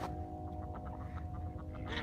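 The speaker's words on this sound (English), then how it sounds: "Sorry if you hear a lot of quacks." Ducks and geese quacking around a lakeside fishing spot, faint and distant over a steady low background hum, with a few scattered calls across two seconds.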